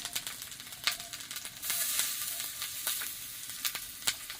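Ginger dropped into onions already frying in a pan, a steady bright sizzle of hot oil with sharp crackles and pops scattered through, close and loud, without any voices.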